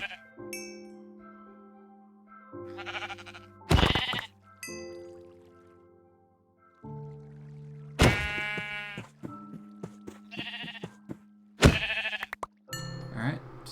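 Sheep in the Sevtech Ages modpack for Minecraft bleat repeatedly, loud and close, one wavering call after another with short gaps, mixed with a few sharp game effect sounds.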